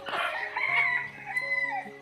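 A rooster crows once at close range on an open, free-range poultry farm, a loud rising call held for about two seconds with no voices.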